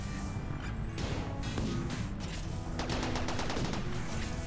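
Defensive turrets fire in the colony-building game Rimworld, a dense, continuous barrage of rapid overlapping shots and impacts that holds loud throughout with no talk.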